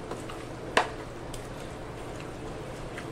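Chicken is mixed with spices in a bowl, giving a soft, continuous wet stirring and squishing texture, close and low in level, with one brief knock of the utensil early on.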